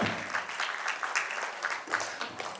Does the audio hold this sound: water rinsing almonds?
no